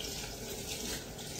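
Tap water runs steadily into a sink during washing, a dense, continuous splashing hiss that stays even and close, with no voices over it.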